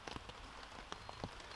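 Rain patters on a tent during wild camping, scattered drops tapping the fabric faintly against a soft, steady hiss.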